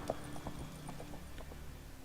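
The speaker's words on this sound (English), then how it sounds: "Grab a horse, we'll chase him down." Horse hooves clip-clopping in The Witcher 3, a steady run of quick, light hoofbeats at moderate distance over a low ambient game background, with no speech.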